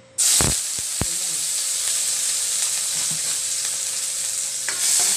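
Ginger frying in a small amount of cooking oil for shrimp adobo, a steady close sizzle and hiss running throughout, broken by a few sharp clicks and stirring knocks near the start and again at the end.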